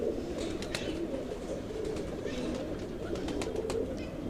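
A common pigeon coos in a large breeding loft, low soft repeated calls close by, against a steady background hum with faint rustling.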